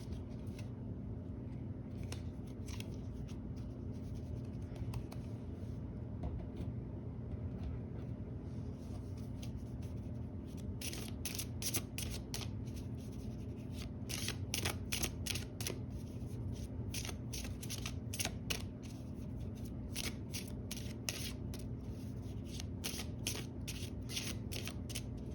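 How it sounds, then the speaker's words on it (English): A deck of cards is shuffled by hand: quiet at first, then repeated rapid riffles and snapping flutters in bursts, close up and crisp over a soft steady hum, with no talking. "You weren't shuffled very well before we started with this deck. Let's give it a good shuffle."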